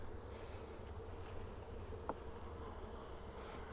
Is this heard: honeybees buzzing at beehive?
yes